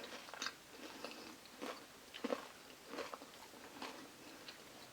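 Someone chews crunchy fried tofu, a series of close, quiet crisp bites and crunches in irregular bursts over a faint background.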